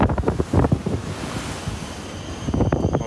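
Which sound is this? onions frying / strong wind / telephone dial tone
strong wind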